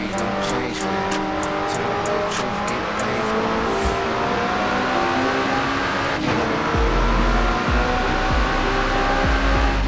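McLaren P1 hypercar engine in Forza Horizon 5, loud and continuous as it revs and accelerates, with gear changes shifting the pitch and a deep rumble toward the end.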